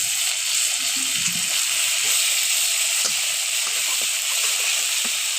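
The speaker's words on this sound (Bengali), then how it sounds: "এখন দিয়ে দিব আদা রসুন বাটা" Ginger garlic paste hits frying shrimp in an oily pan, giving a close, steady sizzle with a few stirring scrapes over the hiss.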